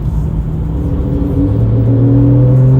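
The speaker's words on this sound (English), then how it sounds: "let's try a second gear pull." Porsche accelerating hard in second gear, a loud interior engine roar whose pitch climbs steadily as the revs build, close and continuous.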